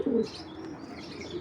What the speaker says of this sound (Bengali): দর্শক এখন যে নটটা দেখাচ্ছে এটা হলো স্টেফেন ডঙ্কার ব্লাড লাইনের কবুতরটা